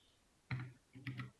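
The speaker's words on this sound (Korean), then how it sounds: "컨트롤 키랑 A를 같이 누르면 얘가 전체 선택됩니다" A computer keyboard pressed for the Ctrl+A select-all shortcut: two quiet clusters of key clicks about half a second apart, close by and alone, with no talking.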